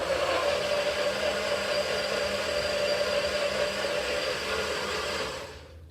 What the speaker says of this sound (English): I do have to blend this and it's gonna be loud